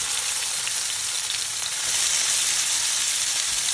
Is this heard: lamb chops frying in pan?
yes